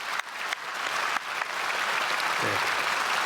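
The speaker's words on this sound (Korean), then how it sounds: "우리 크게 박수로 환영하겠습니다." Church congregation at a special early-morning service applauds to welcome visiting pastors and elders, a sustained, full wash of clapping throughout, with a brief voice near the end.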